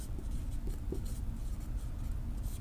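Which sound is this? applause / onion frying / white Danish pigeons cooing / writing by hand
writing by hand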